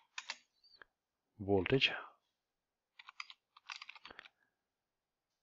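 Short bursts of computer keyboard typing, a few quick clicks then a cluster of keystrokes, close and quiet, with someone speaking briefly between them.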